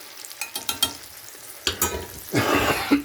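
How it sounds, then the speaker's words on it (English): Catfish fries in oil in a pan close by, crackling and spitting with scattered pops and stirring scrapes building into a steadier sizzle near the end. "All right, those are in and frying."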